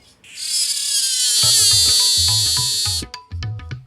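A male insect stridulates its song in a loud, continuous high buzzing trill lasting about three seconds, followed by a few sharp ticking clicks.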